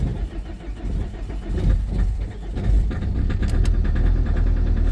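A car engine cranks and catches in freezing cold, about minus 4 degrees, with the clutch held down, then settles into a rough, steady idle; the sound is loud and close, with no speech.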